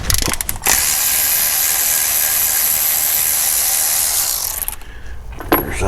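A ratchet loosens a 10 mm bolt on an engine idler pulley, giving a close, continuous rapid clicking for about four seconds between brief handling noises.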